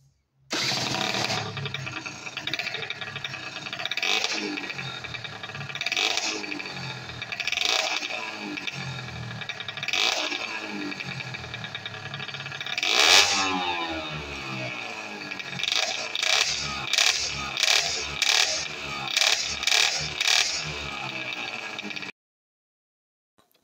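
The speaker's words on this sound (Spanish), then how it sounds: "no os perdáis el sonido de este motor y de esta moto" A custom 80cc motorcycle over 30 years old runs close by, its small engine revving up and down repeatedly, then giving a string of quick blips before cutting off abruptly.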